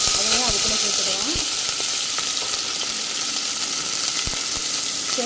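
Half an onion and a tomato sizzle and fry in hot oil with cinnamon and bay leaf for a broiler chicken curry, a steady dense hiss with small pops and crackles, close and continuous, with a brief stir near the start.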